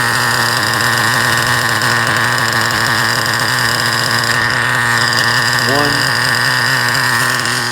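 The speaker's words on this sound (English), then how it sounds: "I've never seen a nitro engine just sit there and run like that." A nitro monster truck engine idles smoothly and loudly up close, a constant buzzing drone with a steady pulse that holds without revving for the whole stretch.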